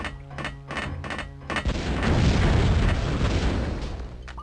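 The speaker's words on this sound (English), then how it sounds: "Good explosion sounds." A loud, booming explosion in the video game Terminator: Future Shock erupts after some quieter rhythmic sounds, its rumble swelling and lingering for a few seconds.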